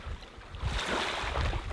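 Waves washing onto a Danish beach, a close, rushing surge of surf with wind noise, brief and fairly loud.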